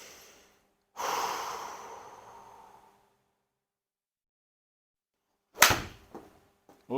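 Deep, audible breaths taken during golf practice swings: a long exhale near the start, then silence, followed by a sharp snort-like burst and a few short breathy bursts near the end, close and fairly quiet.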